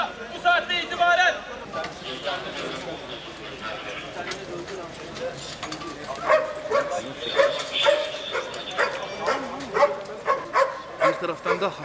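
Police dogs barking repeatedly at a tense incident scene, loud yelps and barks mixed with excited shouting voices and crowd noise throughout.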